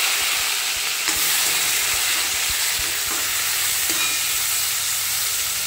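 Tomatoes hit hot oil in a pan and fry with a loud, steady sizzle, broken by the scrape and clatter of a spoon stirring, close up with no talking.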